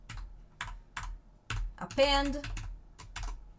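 Keys clatter on a computer keyboard in irregular bursts of clicks, close and moderately loud, while someone speaks briefly over part of the typing.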